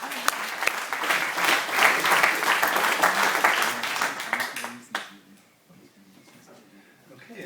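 A startup pitch event crowd claps steadily for about five seconds, loud and dense, then the applause drops away abruptly into quiet room tone.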